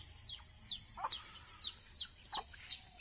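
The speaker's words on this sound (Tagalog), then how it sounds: "Daghang yung manok." Farmyard chickens cluck in short, repeated calls at a moderate distance, with a steady high whine running underneath and no voices.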